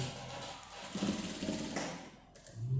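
A sewing machine whirs steadily while stitching a wrap dress seam, a close continuous mechanical drone that dips briefly near the end.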